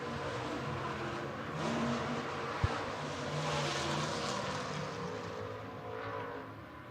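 Race cars run hot laps at Beatrice Speedway in Nebraska: a steady, distant engine roar swells and fades as cars circle the track, with one sharp click partway through and no voices.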